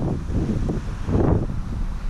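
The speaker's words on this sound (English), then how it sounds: "It's nice and windy." Strong wind roars and buffets steadily against a GoPro Karma drone's Hero6 microphone, a low, rumbling gusty blast with no voices.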